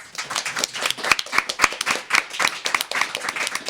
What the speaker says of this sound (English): Can we get one more round of applause?